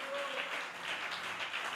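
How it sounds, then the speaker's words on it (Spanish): A church congregation at an evangelical service claps together in a brief, faint, dense wash of applause with voices mixed in. "Levante ese aplauso con júbilo, con gratitud, con gozo."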